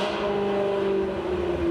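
A modern performance car engine revving close by, a loud steady droning tone that holds and rises slightly near the end.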